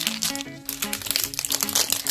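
Plastic packets from LOL Pets confetti pop toys being crinkled and torn open up close, a loud continuous crackling rustle with sharp bursts, while a faint musical tone plays underneath.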